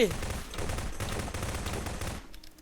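Rapid gunfire from a weapon in Garry's Mod crackles in a dense, loud burst of overlapping shots lasting about two seconds before it stops abruptly, with a voice briefly heard.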